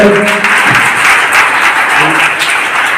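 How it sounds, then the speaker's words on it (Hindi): Loud, dense applause from an audience welcomes a guest onto the stage at a motivational event in Bihar, sustained evenly throughout with a brief murmur of voices beneath. "उनका जोरदार तालियों से स्वागत कीजिए।"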